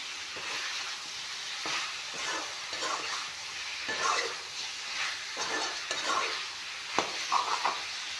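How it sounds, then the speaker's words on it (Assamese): Local chicken sizzles in a hot pan with cumin, a continuous crackle broken by repeated scraping stirs and occasional sharper pops. "অলপমান মাংসখিনি ভালকৈ ভাজি ল'ম।"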